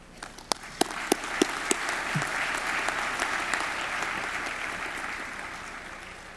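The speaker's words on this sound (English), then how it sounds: "A round of applause for these guys." Audience applause builds after a few sharp, separate claps at the start into a sustained, moderately distant round of clapping that carries on steadily to the end.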